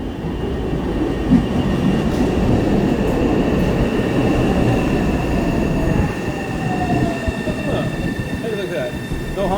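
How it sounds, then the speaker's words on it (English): An MBTA Orange Line train bound for Forest Hills rolls past a station platform without stopping, a loud steady rumble of wheels on rail with a faint high squeal and a voice talking over it. "there's a Forest Hills train that's coming right now that's not taking any passengers"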